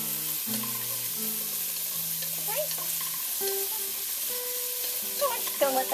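Shallots fry in a pan over high heat for an asparagus, crab and egg soup, a steady sizzling hiss sitting under melodic background music, with a few brief clinks toward the end.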